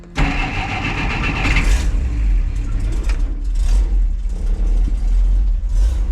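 A car engine with the choke on cranks briefly, then catches and settles into a loud, rough running roar with a few uneven revs, close by.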